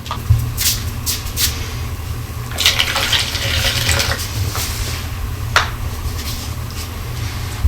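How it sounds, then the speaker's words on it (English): Water trickles and gushes from a tap into a small plastic detergent cap used for mixing craft paint, a steady close pouring with a few sharp clinks and splashes. "so you can always add more water"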